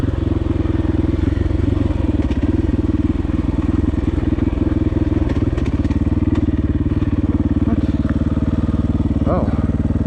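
A KTM 500 EXC-F dirt bike rides along a trail with a constant close engine drone, joined by occasional clatter and thumps from the terrain.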